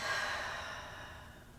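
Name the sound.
breathing out during yoga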